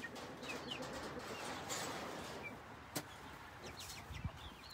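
Chickens in a backyard chicken yard, scattered clucks and soft bird calls over a steady outdoor background, with a couple of sharper knocks near the end.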